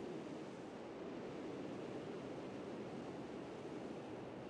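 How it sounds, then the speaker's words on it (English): A waterfall in the survival game Ark rushes as a steady, dense roar of falling water, constant and fairly loud throughout with no voices. "Here's another waterfall that looks really, really dang good."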